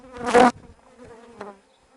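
Honeybees at an apiary, agitated and aggressive, buzz close by: a loud burst of buzzing early on, then a fainter hum with a second brief buzz passing near.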